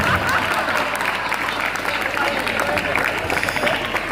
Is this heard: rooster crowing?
no